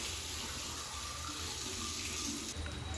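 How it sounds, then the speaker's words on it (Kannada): Water runs steadily from a Grohe Multi Flow body shower during a plumbing installation, a continuous broadband hiss that stays even and close throughout, with no voices. "ಅದಕ್ಕೆ ಆನ್ ಮಾಡಿಕೊಂಡ್ರೆ ನೀರು ಬರುತ್ತೆ."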